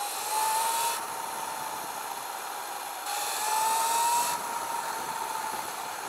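A Sur Ron Light Bee electric dirt bike with an EMXRON power upgrade accelerating on throttle, a rising motor whine in two surges over steady background hiss, with no talking.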